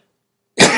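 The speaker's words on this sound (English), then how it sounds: "I'm going to cough now." After a moment of silence, a single sharp, close cough bursts out abruptly and is cut off.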